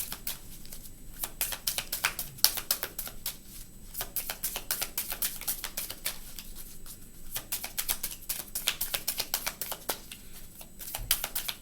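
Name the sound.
shuffling tarot cards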